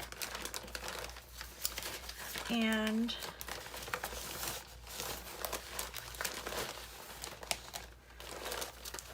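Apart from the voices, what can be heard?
handling crinkling scrap paper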